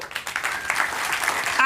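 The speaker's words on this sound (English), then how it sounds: "So the round of applause" An audience applauds briefly at a storytelling talk, a dense patter of clapping throughout the short moment.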